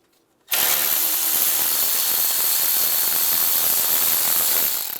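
Power tool spinning steadily while loosening 8mm intake manifold bolts on a 2007-2013 Chevrolet Silverado 1500, starting abruptly after a short quiet moment and running loud and continuous for the rest of the clip, with no talk.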